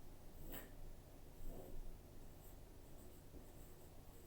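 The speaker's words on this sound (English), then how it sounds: "I'm going to draw that on the side over here." A pen or marker draws a do-undo chart by hand, giving faint, soft scratching strokes in short bursts against quiet room background.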